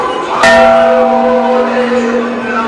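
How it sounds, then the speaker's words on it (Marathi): A single loud strike of a large bell at a Shiva temple during Mahashivratri in Navgaon rings out, its deep resonant tone sustaining and slowly decaying. "मोठी घंटा अशी आहे."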